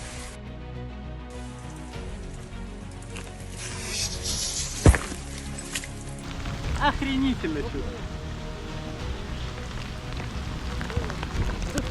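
Rain falls steadily in a forest during an airsoft game, a close, even hiss of drops on leaves and gear with one sharp knock partway through. People talk over the rain.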